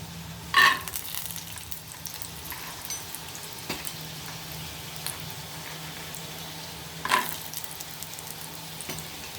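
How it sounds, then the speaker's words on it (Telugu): Peanuts frying in a pan on a stove, a low continuous sizzle broken by two brief louder bursts of stirring or scraping, otherwise quiet and steady. "ఇది వేరుశనగ గుళ్ళు వేయించుకుందాం."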